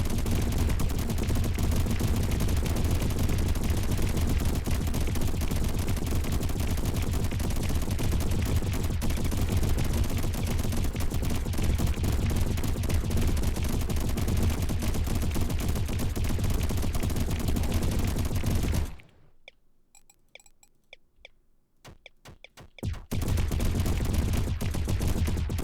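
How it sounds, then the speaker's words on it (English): Dense, continuous rapid-fire laser cannon blasts from the swarm survival RTS roguelite Deep Amon, loud and relentless, cutting out briefly to near silence before resuming. "Laser cannons, though."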